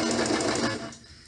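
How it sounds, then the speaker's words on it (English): A sewing machine backstitches along the edge of a pillowcase, giving a brief close whirring run that slows and fades near the end. "I'm just going to backstitch here"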